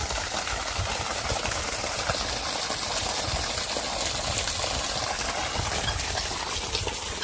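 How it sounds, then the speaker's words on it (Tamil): A 1700 W BLDC motor water pump runs, pushing out a steady, loud rush of gushing water that stays even and unbroken throughout. "அந்த தண்ணியை இந்த மோட்டார் இப்போ பம்ப் பண்ணுது."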